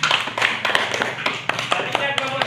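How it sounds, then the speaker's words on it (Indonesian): Classroom applause for a student group, quick scattered claps with sharp irregular taps, close by, over a short span with faint voices underneath. "Tepuk tangan buat kelompok 2."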